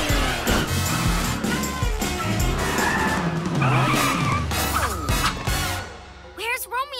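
A cartoon cat-shaped car speeds away with loud squealing, skidding tires and a revving engine, mixed with music and busy sound effects in an animated superhero show.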